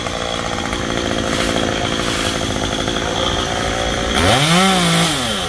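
A chainsaw cuts through a tree in 37°C heat, the engine droning steadily at high revs, then near the end revving up and down in a rising and falling whine.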